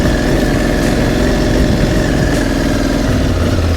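A motorcycle labors up a gravel mountain road in Greece, its engine a loud, close, steady drone that holds a constant note throughout, with no talk over it.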